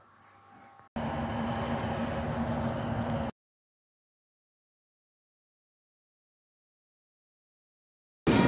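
A train ride toward a Comic-Con event in Nottingham: a steady rumble of a moving train runs for a couple of seconds, loud and close, then the sound cuts to silence.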